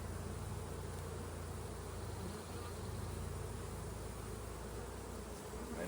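Honeybees buzz around a hive in a steady, unbroken drone that stays faint and even throughout, with no voices.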